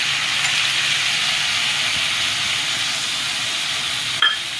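Soaked chana dal and tomato fry in a hot pan with a steady, close, even hiss of sizzling oil that holds for the whole stretch, with one brief knock near the end.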